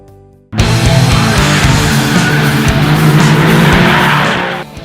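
Alfa Romeo Giulia QV with a 2.9-litre twin-turbo V6 on a race track, a sudden loud burst of engine roar and tyre noise that holds steady for several seconds before easing off.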